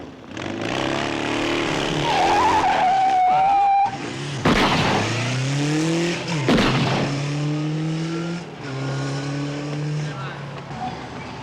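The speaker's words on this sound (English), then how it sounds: "there's some guy in the alley trying to take off on a motorbike" A motorbike taking off in an alley, engine revving hard through rising and falling gear pulls, loud and close, with a brief pause mid-run, under background chatter.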